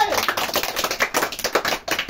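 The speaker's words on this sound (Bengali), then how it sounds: "হাততালি হবে" Brisk applause from a small group cheering a game winner, dense overlapping hand claps rising and falling in quick bursts, close and fairly loud, with voices mixed faintly underneath.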